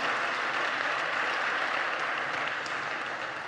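A church congregation applauds during a sermon, a dense, even wash of clapping that holds steady at full volume throughout, with no voices heard over it.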